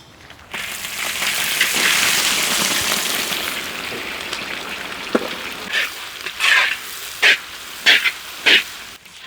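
Onions sauté in a pan with cashew nuts and dry red chillies, first in a loud, steady sizzle, then as a quieter fry broken by a run of regular stirring scrapes and bursts of hissing.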